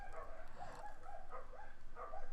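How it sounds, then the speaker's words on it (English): Several dogs barking somewhere nearby but fairly quietly, a string of short yips and bow-wows repeating in quick bursts over a couple of seconds. "I'm sorry if you hear a bunch of dogs barking."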